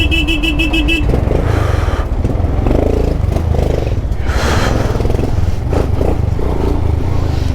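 Adventure motorcycles ride a road from Kathmandu to Pokhara in Nepal, a steady engine drone running throughout with clatter and passing traffic noise, loud and continuous with no talk.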